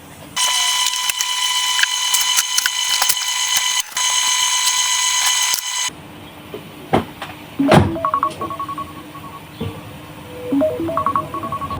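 A kitchen timer rings in a long, bright, continuous mechanical trill, breaking off partway through, followed by clattering and quieter intermittent kitchen sounds while chocolate cake batter is made.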